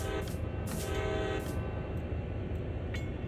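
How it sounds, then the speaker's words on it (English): A locomotive horn in the Train Sim World video game gives two short blasts, loud and close over a constant rumbling engine drone, followed by faint clicks. "whenever you're about to start moving a train, you do two short blasts"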